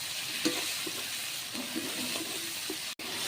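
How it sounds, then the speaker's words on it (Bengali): A masala of garlic, onion, ginger, tomato and chilli paste frying in a pan is stirred with a spoon, giving a steady sizzle broken by light scrapes and one brief dropout, with no voices. "আদা বাটা, টমেটো আর লঙ্কা বাটা দিয়ে দিয়েছি। একটু নেড়ে নেবো।"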